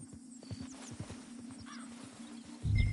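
A horse in the video game Red Dead Redemption II, steady clip-clop of hooves at a walking pace with a low background hum, ending in a louder thud or snort.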